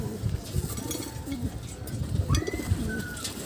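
A pigeon coos nearby in soft, repeated rolling phrases, with faint chirps and a little background noise.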